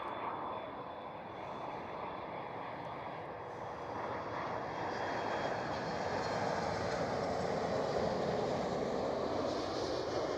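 Airbus A380 in Wimbledon livery landing at Schiphol Amsterdam, a broad steady jet roar that builds gradually and holds loud through the end, with no voices over it.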